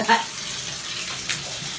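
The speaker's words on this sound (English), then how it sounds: "I'm going to get a cup and rinse down the walls." Water poured from a cup sloshes against shower walls in a home bathroom, a short splash at the start followed by steady wet spattering and a second brief burst, close and moderately loud.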